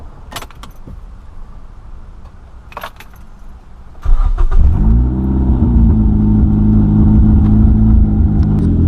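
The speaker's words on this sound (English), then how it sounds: "So I'm gonna go ahead and start it up so you guys can hear what it sounds like right now." Keys jangle for a few seconds, then a first-generation Mazda3 MZ3 with an exhaust leak cranks and catches at close range, flaring briefly before settling into a loud, rough, rumbling idle.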